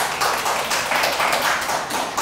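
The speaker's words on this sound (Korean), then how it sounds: "하나님께 영광의 박수로." A church congregation claps together in a dense, continuous burst of applause, loud and close, with no voices over it.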